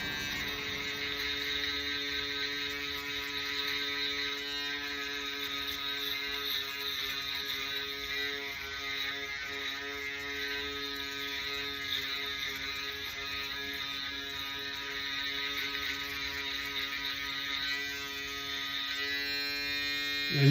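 A Skeleton Pro Detailer electric trimmer hums steadily and close during a hair trim and shape-up, with a sustained buzzing drone that barely varies for about twenty seconds and no talking.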